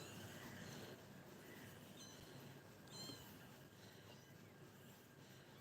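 A cat drawn by the smell of fish near a litter of new kittens gives faint, short meows at a distance over a quiet background hiss.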